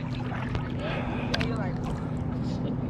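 Someone swims in water wearing regular shorts and a shirt, producing soft splashing and sloshing strokes close by, with a stronger burst of splashes partway through.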